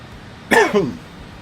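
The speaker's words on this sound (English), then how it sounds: "sorry for coughing into the microphone there" A single short cough close to a microphone, sharp and slightly rough, standing alone against a quiet room background.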